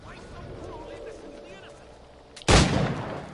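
A single sharp, loud gunshot cracks out in Assassin's Creed III Remastered gameplay. Before it comes a stretch of quiet ambience with faint voices, and a brief ringing decay follows the shot.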